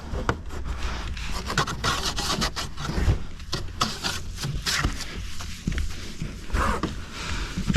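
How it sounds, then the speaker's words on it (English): Hand scrubbing the windshield channel of an old OBS Chevy truck: quick, uneven rubbing and rasping strokes, close and fairly loud, in bursts with a few brief pauses. "Just want to go ahead and scrub this real well."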